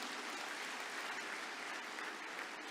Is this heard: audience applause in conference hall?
yes